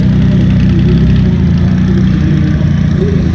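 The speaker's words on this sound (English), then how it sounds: "Wayne Gummo coming out for redemption on the Rocket 3. He's put the ZX14 away. The Van Diemen exhaust" Triumph Rocket 3 motorcycle fitted with a Van Diemen exhaust, running at a bike night show: a loud, steady, deep engine rumble sustained close by throughout, with no talk over it.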